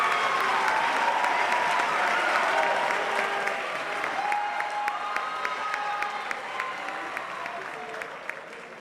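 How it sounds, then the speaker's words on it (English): A university awards-ceremony audience gives Character Scholar Ambassadors a sustained round of applause, loud at first and gradually thinning out, with a few scattered cheers mixed into the clapping. "Let's give them a round of applause for being Went Character Scholar Ambassador."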